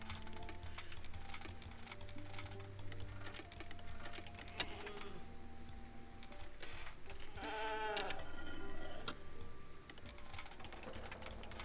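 Sheep in the video game Wartales bleat in a quavering burst near the middle, set against a steady bed of game ambience and rapid clicking like keyboard typing, with no talking.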